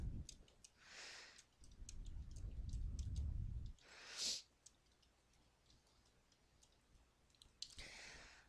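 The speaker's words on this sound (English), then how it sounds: "I'm simply typing a sentence." Faint keyboard typing, with light irregular key clicks tapping away and a few soft breathy bursts between them.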